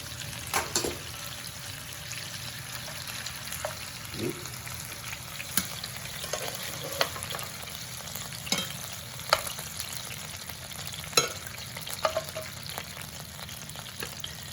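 Chicken pieces browning in a frying pan for baked honey mustard chicken give a steady, moderate sizzle throughout, broken by occasional sharp clicks and pops of spattering fat, with no talking.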